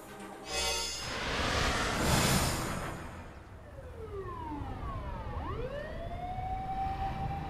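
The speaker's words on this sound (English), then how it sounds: "could hear ambulance and police sirens wailing on the main road" Video game ambulance and police sirens wail, rising and falling and sweeping pitch as the vehicles pass at moderate distance over a steady traffic rumble.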